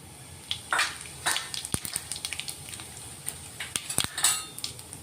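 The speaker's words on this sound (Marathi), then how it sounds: "त्याच्यात जिरे मोहरी टाकून घेऊ आपण।" Cumin and mustard seeds hit hot oil in a pan, followed by sharp metallic clinks and taps of a utensil against the pot over a faint sizzle, close and intermittent, with no talking.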